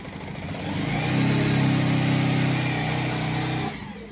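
A BS4 motorcycle started up for a test and given throttle, its mid-pitched engine swelling into a loud, sustained rev for a few seconds before easing back down toward idle, close by with no talking.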